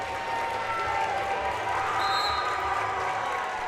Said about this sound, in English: applause from the student section